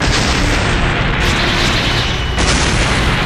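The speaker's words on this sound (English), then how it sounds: "As a massive explosion encapsulates the metropolis." An animated massive explosion engulfs a city, a loud continuous roaring blast rumble filling the whole clip with sustained heavy noise and no voices.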